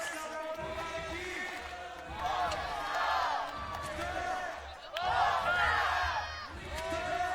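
A championship crowd at an IMCF world championship group-stage battle chants and cheers in surges over loud arena music, with voices layered throughout and swelling peaks of noise.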